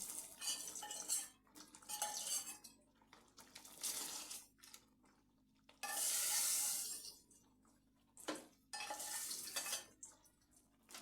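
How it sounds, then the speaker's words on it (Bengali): A spoon scrapes and clinks against a metal pot in uneven stirring bursts, mixing tempered oil into lentil dal, with brief wet sloshing sounds between strokes, fairly quiet and close. "সেটি আমি আস্তে আস্তে মিশিয়ে নিচ্ছি ডালের সঙ্গে"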